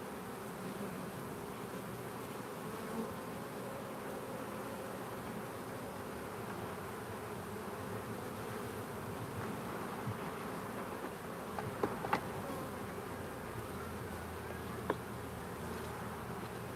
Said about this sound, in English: The bees are just out of control.